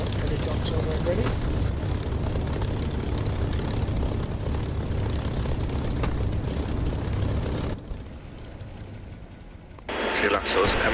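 A helicopter in the DCS flight simulator game drones with a loud, continuous engine and rotor roar that drops off near the end before rising again, with speech mixed in.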